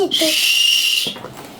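One short, shrill blast from a toy whistle, lasting about a second, followed by a brief voice.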